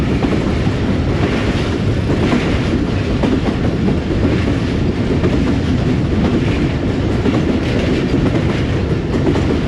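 Rehman Baba Express train running on rails between Rawalpindi and Lalamusa, a loud, steady onboard rumble with continuous clatter and wind noise throughout.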